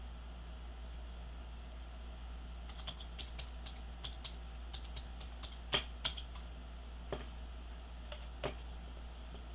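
An address is typed on a computer keyboard as faint, irregular clicking keystrokes with a few sharper taps, over a steady low hum in a quiet room.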